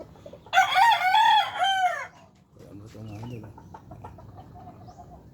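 A rooster crows once, loud and close, with a rising and falling call, followed by softer clucking from chickens while someone talks nearby in a warm outdoor setting.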